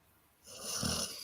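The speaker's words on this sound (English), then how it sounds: "Yeah, I hear him snoring." A person snoring, one soft raspy inhaled snore rising after a quiet moment, faint and close, with no speech.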